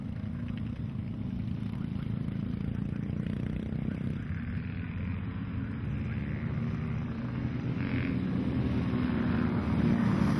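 A big vintage Zenith V-twin motorcycle from the Verrill collection, ridden by Ian Hatton at the Brooklands motorcycle centenary, gives a steady, loud, low engine drone that holds for the whole stretch and swells slightly near the end.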